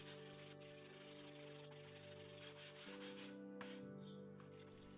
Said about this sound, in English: First I started off with a 120 grit sandpaper.